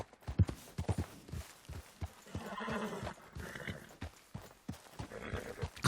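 Horse hooves clip-clopping in Red Dead Redemption 2, an irregular run of steps heard up close, with a horse snort or whinny among them and some faint background noise.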